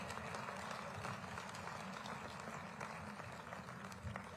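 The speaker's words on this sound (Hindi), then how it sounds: "जोरदार तालियां आप सबकी तरफ से" Sustained, dense applause from a ceremony audience at a state-level Maharaja Agrasen Jayanti event in Panchkula, steady and moderately loud for the whole stretch with no clear pauses.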